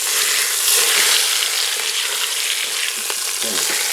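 Brisket sizzles and crackles steadily in a Chef IQ cooker as it is flipped, a loud, close, continuous frying hiss with brief scraping and handling sounds near the end.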